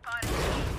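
A sudden loud burst of gunfire in a first-person shooter video game, a single dense blast that fills the short moment and stays near and harsh.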